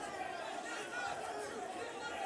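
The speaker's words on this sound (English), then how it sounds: "An intense atmosphere from the crowd ringside." Dense ringside crowd at a boxing match, a steady wash of loud chatter and shouting voices filling the hall without a break.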